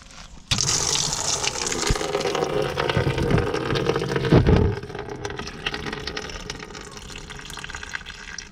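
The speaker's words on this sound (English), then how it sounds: "I opened the expansion tank cap because it will drain way faster" Coolant gushing from the radiator drain of an Audi A3 8L, a sudden steady splashing pour that begins abruptly and runs on close and fairly loud, with a brief surge partway through.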